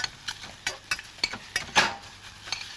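Leftover bits of fish with mushrooms and shallots frying gently in a pan, a soft crackling sizzle punctuated by light clicks and scrapes of a utensil stirring against the pan.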